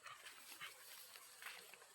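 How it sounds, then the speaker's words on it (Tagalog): Four dogs outdoors give faint, scattered yips and whimpers at a distance, quiet and intermittent with no talking. "Daming aso. Apat pala itong mga aso mga guys."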